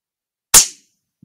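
A single gunshot fired at a fox at night, one sharp, loud crack that decays quickly into quiet.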